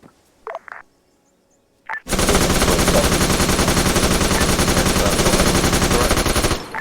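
Sustained machine gun fire in a military video game set around a French Resistance armor depot, one long loud rapid burst after a few faint clicks and a short sound, continuing for nearly five seconds.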